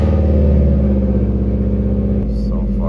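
Subaru WRX engine starting cold, rumbling and revving close by, with a deep low-pitched drone that drops and settles into an idle near the end.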